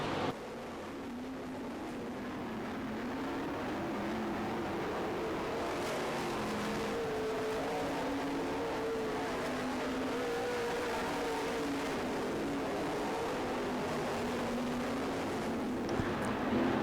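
Race cars circling a dirt oval track in a sprint race, engines droning steadily and continuously at a distance, with several cars audible together and no talk over the noise.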